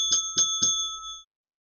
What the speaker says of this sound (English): Ring the bell.